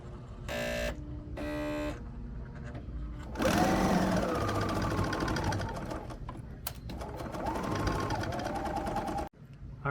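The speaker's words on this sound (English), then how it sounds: "I am using the left needle in this case, and I'm just going to start sewing." A serger stitching the hem of a t-shirt with the left needle threaded, running in a steady mechanical whir that surges in bursts across several seconds, close and fairly loud, with no talk over it.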